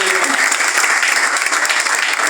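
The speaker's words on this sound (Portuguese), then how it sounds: "Salve palmas para nós." A dense burst of audience applause at an Amway seminar in Cuiabá, Mato Grosso, loud and steady for a couple of seconds from a large crowd.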